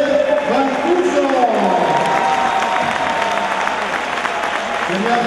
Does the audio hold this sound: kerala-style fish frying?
no